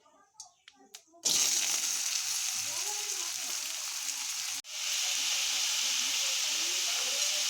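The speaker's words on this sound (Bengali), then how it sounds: "এবার আমরা সবজিগুলো অল্প একটু ভেজে নেব।" Snake gourd and potato pieces sizzle steadily in a hot pan with cumin, a loud continuous frying hiss that starts abruptly after a few faint clinks and briefly dips once before resuming.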